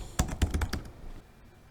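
A short burst of about five quick keystrokes on a computer keyboard, close and fairly quiet, then silence in a quiet room.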